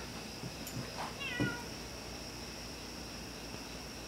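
House cat meowing to be let out, two or three short plaintive meows in the first second and a half, fairly close against a quiet background hiss.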